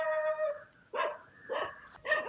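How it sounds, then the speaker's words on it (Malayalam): A dog barking near a viewpoint above a deep gorge on the way to Thirparappu waterfalls, a drawn-out howl followed by three loud close barks at steady intervals. "ഒരു പട്ടിയും കിടന്ന് കുരച്ചായിരുന്നു ഞാനിങ്ങോട്ട് വന്നപ്പോഴത്തേക്കുവേ."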